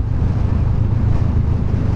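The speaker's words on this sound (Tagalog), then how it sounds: "Malamig na hangin dito." Cold wind blows steadily across the microphone on a high mountain road in the Philippines near Tinoc and Buguias, a loud, continuous low rumble and buffeting with no talk.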